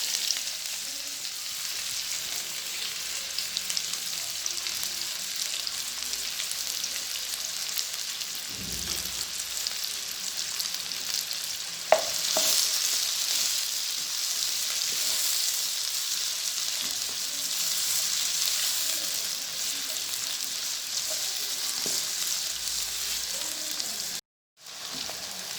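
Large onions frying in desi ghee for a Punjabi gobhi aloo sabzi, a steady close hiss and sizzle with faint crackles and an occasional stir, no voices over it.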